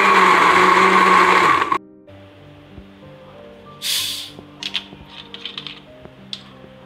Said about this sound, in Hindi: अब इसको अच्छी तरह से ब्लेंड कर लेंगे।